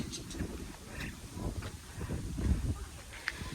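Wind rumbles and buffets the microphone in low gusts throughout, fairly close and uneven, with faint background noises.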